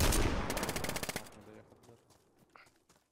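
Automatic gunfire in the video game DayZ: a loud, rapid burst of shots that tapers off and fades into quieter scattered sounds, with faint voices.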